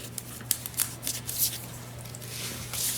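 Scissors snip off a trimmed paper piece during handmade book making, a few soft crisp cuts and rustles close by, with quiet handling noise between.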